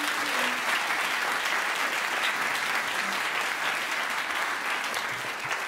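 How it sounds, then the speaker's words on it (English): Audience applause at a jazz club concert for a quintet's sound crew, a dense steady wash of many hands clapping throughout with no break. "So please give them a round of applause."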